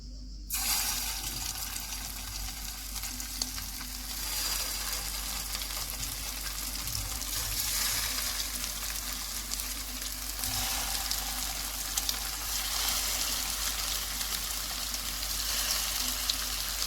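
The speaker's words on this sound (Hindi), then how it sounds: "जब ऑयल गर्म हो जाएगा तो आंच को हम दरमियाना कर देंगे और कबाब इसमें रख देंगे।" Chicken gola kababs fry in about four spoonfuls of hot oil in a pan over medium heat, giving a steady, close, hissing sizzle with faint crackles that holds without a break and has no talking over it.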